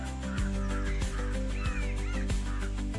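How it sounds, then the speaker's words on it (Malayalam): A flock of ducks in a paddy field quacks and honks in repeated harsh bursts, close and loud, with a steady low hum underneath. "കണ്ട മൊത്തം താറാവാണേ"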